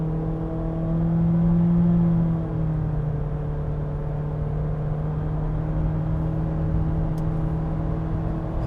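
A car with a CVT accelerates while its engine holds the same RPM, a steady, droning whir under a low rumble, swelling slightly early on then staying level, with no voices.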